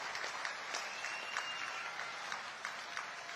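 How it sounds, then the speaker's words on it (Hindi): An audience at a political rally in Rewa, Madhya Pradesh claps in welcome, a continuous mass of clapping heard from a distance and fairly faint, with a few louder individual claps standing out. "एक बार पूरी ताकत लगा करके तालियां बजा करके स्वागत करिए"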